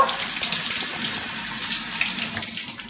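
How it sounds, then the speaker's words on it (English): Tap water runs steadily into a sink while a mango is washed under it, a continuous close splashing hiss that tapers off at the end. "Okay, so now I'm going to wash the mango."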